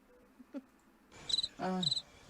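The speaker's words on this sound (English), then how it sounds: "We need the cricket sound effect." A cricket sound effect on a live radio show chirps in a few short, high trills, brief and fairly clear against faint background noise.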